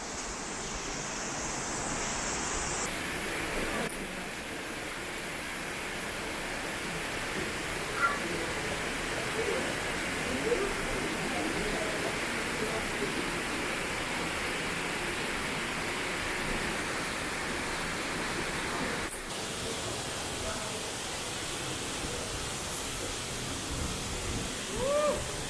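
The Cascata do Cabrito waterfall in the Azores, a steady broad rush of falling water heard from above, continuous and fairly loud with some wind buffeting.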